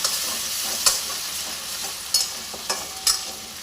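Ginger and garlic being stirred in a hot oily pan for restaurant-style chilli chicken, with a steady sizzle and several sharp spatula scrapes against the pan, close and alone without talk.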